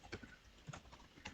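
Light typing on a computer keyboard, a handful of soft, irregular key taps close by in a quiet room.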